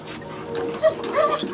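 A police dog whimpers and yips close by during a night search of a garden for a suspect, with faint voices in the background.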